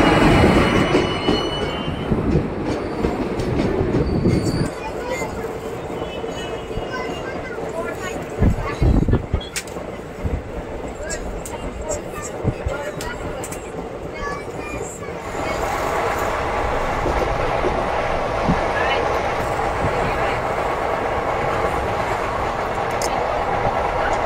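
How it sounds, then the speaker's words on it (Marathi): A train pulling into a station on a Mumbai to Shegaon journey, a loud continuous rumble of rolling wagons with wheel squeal and clattering bursts, people talking nearby. "हे बघा ही आमची आता ट्रेन आली"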